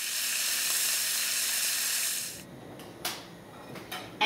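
Osso buco shanks browning in a hot pan give a steady, loud sizzle for about two seconds, then the sizzle drops to a quieter hiss broken by a few sharp clatters.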